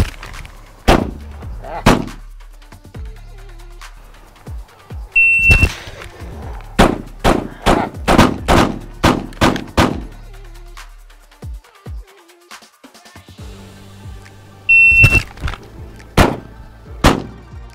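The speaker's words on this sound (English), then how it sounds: "5 rounds from concealment, 5 yards, sub 5 seconds" A handgun fires from concealment during a five-yard shooting drill: sharp, loud reports come in tight rapid bursts, with shot-timer beeps starting each string and brief pauses between runs.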